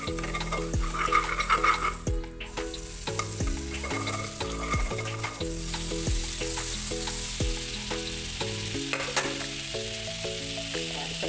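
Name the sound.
butter sizzling in a hot wok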